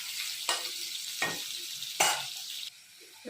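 Potatoes fry in oil over a low-medium flame, giving a soft, steady sizzle broken by a few bursts of stirring. No one speaks.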